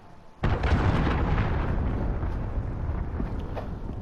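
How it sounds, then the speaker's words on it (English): A cruise missile strike in Call of Duty: Modern Warfare hits after a moment of quiet, a sudden heavy explosion followed by a long rumbling roar and debris that slowly fade out over several seconds. "Allied cruise missile away."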